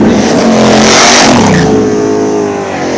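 A little nitrous drag radial race car accelerates hard at a Carolinas drag strip, its loud engine roar climbing in pitch and then holding steady for a few seconds with no talk.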